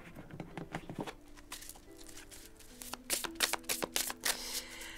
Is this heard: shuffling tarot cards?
yes